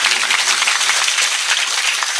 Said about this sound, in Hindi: इन्हें जोरदार ताली बजा करके साधुवाद दो